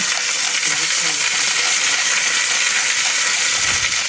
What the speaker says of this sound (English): I'm just gonna brown it, salt and pepper it.